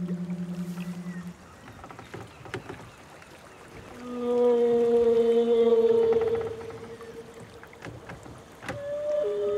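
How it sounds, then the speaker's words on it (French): A whale singing underwater off Madagascar, picked up through a microphone dipped in the water: long tonal moans and rising calls, fairly clear and close, with no talk over them. "C'est une baleine qui chante."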